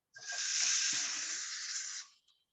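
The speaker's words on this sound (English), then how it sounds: "We'll probably hear a sizzle." A steady, bright sizzle of food hitting a hot pan, loud and close, lasting about two seconds before cutting off abruptly.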